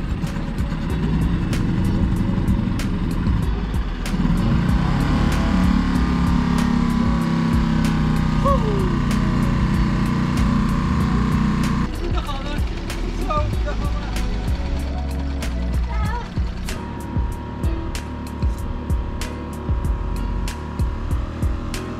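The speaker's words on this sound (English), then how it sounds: "Very first time starting the engine." Sailboat's inboard engine started for the very first time, turning over and settling into a steady close mechanical rumble that shifts in tone midway, with voices talking over it.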